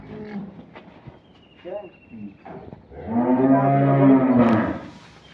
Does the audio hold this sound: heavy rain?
no